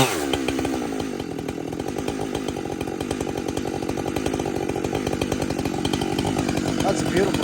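A Husqvarna 592xp chainsaw bucks a log, its engine snarling loud and close at full cut with a rough, pulsing tone throughout, while a voice talks beneath it.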